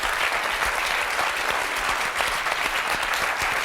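Loud, dense applause from a studio audience at a beauty pageant contest, steady clapping from many hands filling the whole stretch with no voices rising above it.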